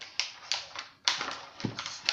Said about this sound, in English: I'm unwrapping ice cream rubbers.